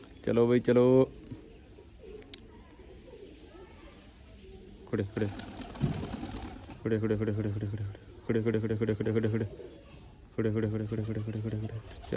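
Pigeons coo in several rhythmic bursts, close and fairly loud, separated by quieter stretches of background noise and faint talk.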